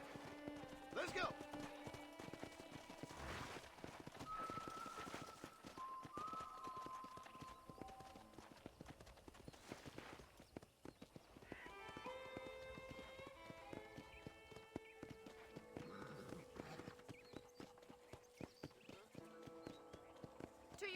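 Horse hooves clip-clopping at a steady riding pace in the Red Dead Redemption game, rhythmic thuds with an occasional whinny, under background music and people talking.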